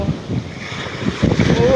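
Ocean waves wash and rumble with heavy wind noise buffeting the microphone, surging louder toward the end.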